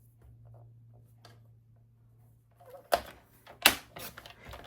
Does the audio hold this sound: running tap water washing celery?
no